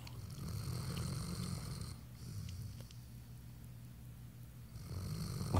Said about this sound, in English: Listen to that snoring.